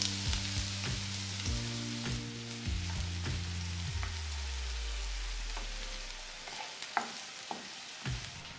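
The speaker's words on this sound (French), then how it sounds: "On met les poêles sur un feu doux. On ajoute des oignons et on attend 1 minute." Onions fry gently in a pan over low heat for a Caucasian beef soup, giving a soft, even hiss with occasional small pops, while a descending musical tone plays over the first part.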